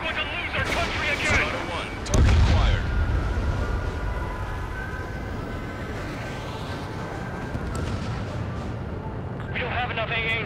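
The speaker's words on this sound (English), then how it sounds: "They already are firing on us." Combat flight action in Ace Combat 7: Skies Unknown, with rumbling gunfire and missile blasts, a heavy boom near the two-second mark, then a sustained roar of battle, while voices talk over it.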